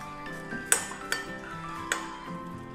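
Fried fluffy catfish is crumbled into small pieces, and a utensil clinks sharply against a dish a few times over a low background clatter.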